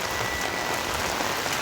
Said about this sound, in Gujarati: વરસાદ ચાલુ છે એના લીધે અમુક પલળવા આવ્યા